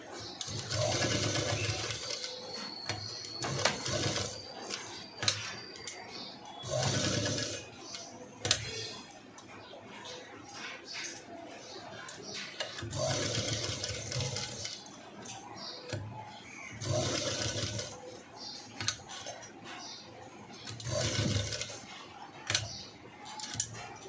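A sewing machine stitches black cut-work detail on the front of a princess-cut blouse, running in loud bursts of rapid mechanical ticking separated by brief pauses, with a faint voice now and then.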